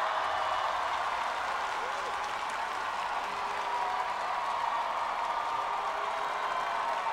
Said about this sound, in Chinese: 从欢呼声就知道了哈